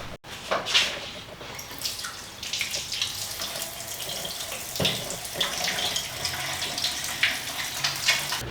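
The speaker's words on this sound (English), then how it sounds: "let me wash my hands first" A tap runs steadily into a sink while hands are washed, the water rushing and splashing with small shifts and drips; it is close and moderately loud, with no talking.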